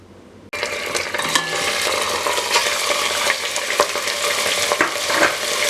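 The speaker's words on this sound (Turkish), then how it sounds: "Tenceremizi iyice ısındıktan sonra etimizi içine atıyoruz" Steady, loud sizzling of meat frying in a hot pot for Turkish orman kebabı, crackling and popping continuously with occasional stirring scrapes, no voices.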